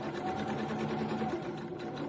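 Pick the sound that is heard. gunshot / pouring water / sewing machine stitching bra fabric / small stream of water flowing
sewing machine stitching bra fabric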